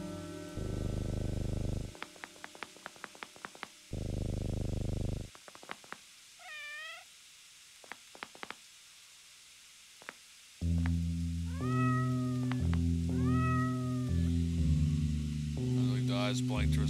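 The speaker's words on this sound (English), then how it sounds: "It's a whole room full of kitties." Cats in the video game OneShot meow and purr across a room full of kitties, with rising meow calls and a rhythmic purr over game music. Clear synthesized tones play at intervals alongside them.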